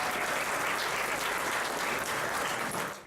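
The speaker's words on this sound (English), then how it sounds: "how about a round of applause for Paul again?" A comedy show audience applauds a stand-up comic in thick, sustained clapping that holds steady and then starts to fade at the very end.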